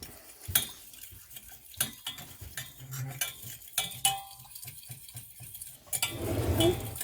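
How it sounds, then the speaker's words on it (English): A utensil stirs gravy granules in a metal pan on a cheap camping cooker, giving repeated light scrapes and clinks in an irregular rhythm, close and moderately loud, with a burst of sizzling or bubbling near the end. "Put a bit of that in. Give it a stir."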